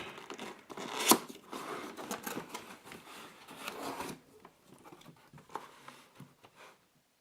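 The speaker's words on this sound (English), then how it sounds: "So now let's go ahead and open up the box" A cardboard box being torn and opened to unbox a Perixx Periboard-512II ergonomic split keyboard, with close, loud ripping and crinkling bursts and one sharp tear near the start, then quieter rustles and scrapes.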